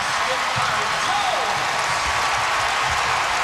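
A college basketball arena crowd roars steadily and loudly from start to finish, a dense wash of cheering that buries any single voice.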